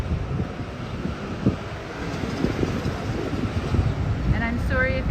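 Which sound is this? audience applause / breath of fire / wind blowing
wind blowing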